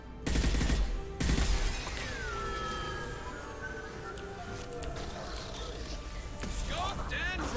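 Gunfire erupts in Mass Effect 2's suicide mission, two sharp loud bursts early on followed by continuous combat noise, with voices talking over the action.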